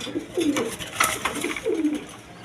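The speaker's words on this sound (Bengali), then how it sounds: "এখানে আরেক পেয়ারের রাজগোল্লা কবুতর দেখেন" A pair of big Rajgolla pigeons coos in repeated low, rolling phrases, close and fairly quiet, with faint background noise between the calls.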